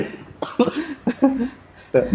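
A person lets out several short, separate coughs in an indoor conversation, with speech around them.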